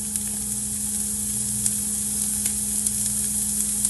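Onion sautéing gently over low heat for an empanada filling, a steady close hiss of frying with faint intermittent crackles and light pops throughout, with no voices.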